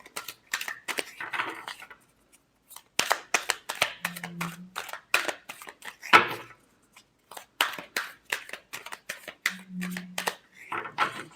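Tarot cards are shuffled in quiet clusters of crisp flicks and slaps, coming in uneven bursts separated by brief pauses.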